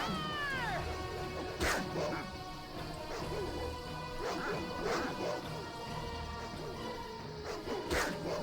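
Dogs barking in the Baldur's Gate Trilogy video game during a fight at a farm, several short barks and yelps mixed with a cat-like yowl and clashing impacts over game music.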